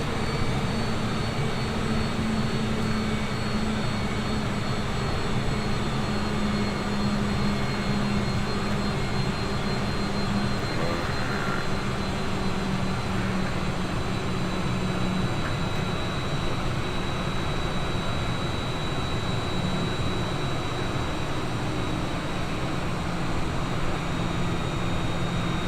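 Boeing 787 Dreamliner jet engines in Microsoft Flight Simulator give a steady, loud, broadband roar with a faint high whine, unchanging and alone for the whole stretch.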